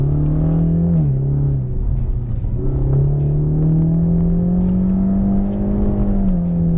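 Ford Mustang EcoBoost four-cylinder engine accelerating hard in track mode on a twisty circuit with tight corners and hairpins, a loud steady engine drone rising and dipping with shifts, close and continuous throughout.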